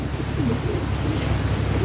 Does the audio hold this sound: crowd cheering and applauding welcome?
no